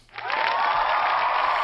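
A loud burst of crowd applause swells in quickly and holds steady as dense, close clapping with no voices over it.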